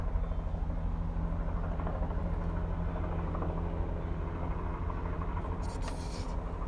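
A helicopter produces a steady, low droning rumble that fills the background, continuous and unchanging in level throughout with no voices over it.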